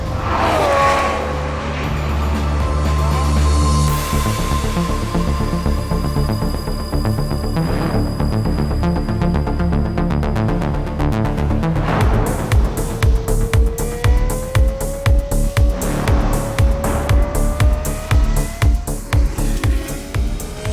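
The naturally aspirated V12 of a Lamborghini Murcielago LP670-4 SV climbs through the revs in long rising howls, breaking at each gear change before building again, loud and close with no speech.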